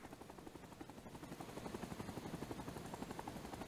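Transport helicopter in the Vietnam War shooter game Rising Storm 2: Vietnam, with a steady, rapid rotor chop that builds slightly louder and closer, heard alone without talk.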